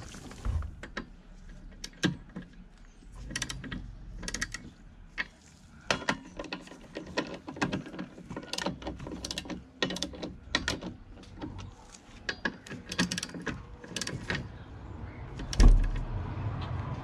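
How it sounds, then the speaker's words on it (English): Ratcheting and metallic mechanical clicks from a wrench tightening the windshield cowl of a BMW E60 M5 to 20 Nm, close and fairly steady, with irregular ticks and clunks through the work and no talking. "I'm going to tighten this down to 20 Newton meters, so that'll press that on"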